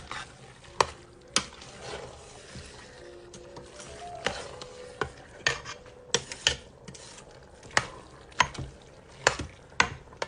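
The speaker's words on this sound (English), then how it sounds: "then we're going to stir. Again, make sure the seasoning is going throughout." A spoon stirs seasoned veggie taco filling in a frying pan, with repeated sharp scrapes and clacks against the pan over a low, steady sizzle, close and moderately loud.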